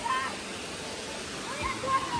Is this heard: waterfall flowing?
yes